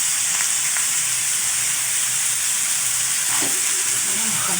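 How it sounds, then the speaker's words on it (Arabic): Boiled coriander frying and being stirred in a pan while cooking spinach with eggs and chicken, a steady close sizzle with soft scraping stir sounds throughout, no talking. "نزيد القزبر المغلي"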